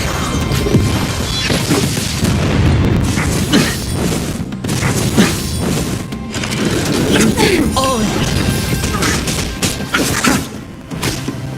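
An explosion attack from the video game Honkai: Star Rail, a dense, loud run of crashing blasts, thuds and impacts with short gaps, layered with game effects and bits of character voice.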